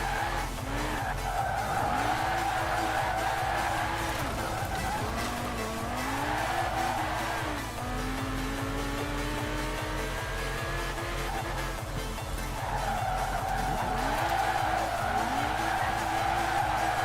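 A rear-wheel-drive Lexus drifts on a street in the video game Forza Horizon 4, with long, continuous tire squeals over a droning engine that rises and falls. The sound is loud and steady throughout, with no talking.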